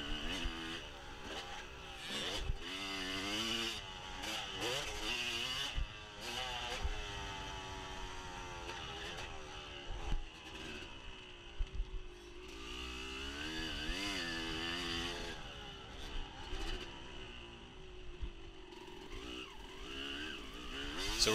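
A dirt bike engine revs hard during an off-road race, its pitch climbing and falling in repeated surges as the rider works the throttle, loud and close with wind noise and occasional bumps throughout.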